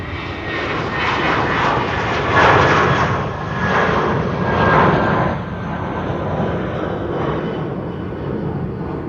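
An Airbus A320neo at Amsterdam Schiphol Airport roars loudly and steadily as its jet engines pass, with the broad rumble swelling twice before easing slightly.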